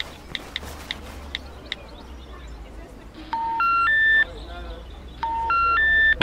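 A mobile phone dials a number, with a quick run of keypad beeps followed by two repeated sets of stepped electronic call tones, fairly close and clear over low room noise in a village setting.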